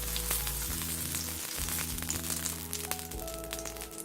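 Milma ghee sizzling in a heated pan for Kerala banana roast, a steady close crackling fizz with a low hum running underneath throughout.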